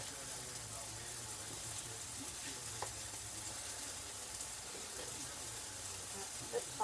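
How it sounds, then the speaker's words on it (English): Mushrooms sauteing in a pan for a crustless quiche, giving a steady, soft sizzle of frying throughout with a few faint clicks of utensils, fairly quiet and without clear talk. "So those mushrooms are still cooking down right now."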